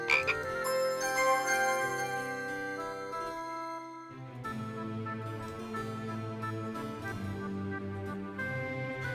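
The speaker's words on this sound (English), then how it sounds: "So you want to pick up the frog?" A frog croaking in the Discworld video game, repeated croaks over tinkling game music, with no voices.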